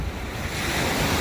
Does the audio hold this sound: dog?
no